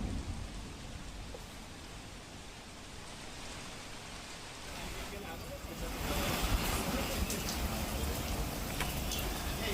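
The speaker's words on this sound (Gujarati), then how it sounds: "પીપલોદ, વેસુ, સેટેલાઇટ વિસ્તારોમાં વરસાદ વરસી રહ્યો છે।" Heavy monsoon rain pours over Pipload, Vesu and Satellite areas of Surat, Gujarat, a steady broadband hiss that grows louder midway through, with no talk.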